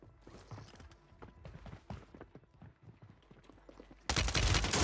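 Gunfire in the Warzone 3 battle royale game: scattered soft shots and footstep-like clatter run under faint activity, then a loud, dense burst of automatic fire erupts near the end.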